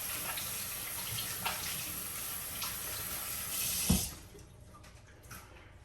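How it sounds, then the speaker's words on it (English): A kitchen tap runs steadily while hands are washed beneath it, a continuous close hiss of water that is cut off near the end, leaving a quiet room. "and wash my hand"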